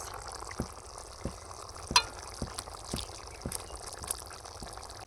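Fried prawns go into a simmering malai curry gravy with garam masala, giving a soft steady bubbling sizzle with several light taps and plops from the spoon.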